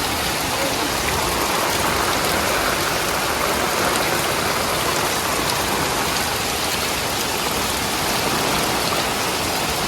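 Heavy rain pours steadily in a Bengali village, a dense, loud, continuous hiss of drops on surfaces that holds without a break from start to finish and never lets up.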